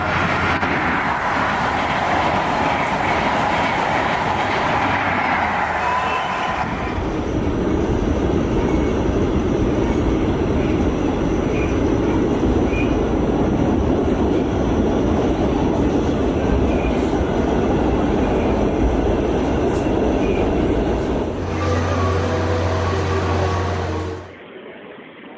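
A modern train passes close along a railway, a loud steady rumble and rolling clatter sustained for over twenty seconds before it suddenly drops away at the end.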